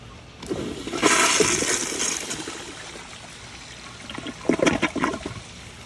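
A Kohler Kingston toilet with a water guard flush valve gives one loud, powerful flush: a rushing surge of water that peaks early, eases into a steady swirl, then ends in a second gurgling burst as the bowl refills.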